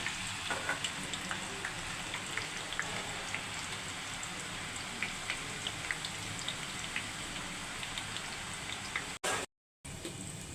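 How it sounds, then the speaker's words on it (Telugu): Steady, dense sizzle of potato slices frying in oil into chips, with light crackles and pops throughout and a brief dropout near the end. "ఆలు వేస్తున్నాను ఇవి చిప్స్ లాగా అవుతాయి"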